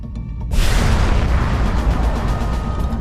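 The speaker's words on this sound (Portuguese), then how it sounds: "A supernova é a explosão colossal de uma estrela no fim da vida." A supernova explosion effect for a dark-matter astronomy piece: a loud, sudden boom that erupts after a quiet half-second and rolls on as a dense, sustained roar with deep rumbling through to the end.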